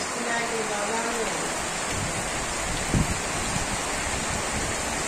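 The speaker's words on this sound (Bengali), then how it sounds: "বাইরে বৃষ্টি দেখেন অবস্থা।" Steady rain falls outside in a village, a dense even hiss with a brief thump near the middle, close and continuous with no talk.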